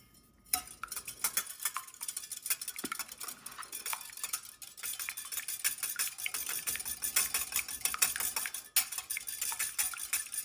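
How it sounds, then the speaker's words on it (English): Fork or whisk beating a single egg in a small ramekin, a fast steady ticking patter of utensil strikes against the dish, fairly close and continuous for several seconds with no talking. "Beat your egg."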